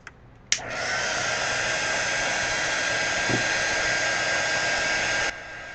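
A hair dryer blows steadily to dry a wet watercolor painting, starting abruptly after a click and running as a loud, continuous whoosh for several seconds before cutting down near the end.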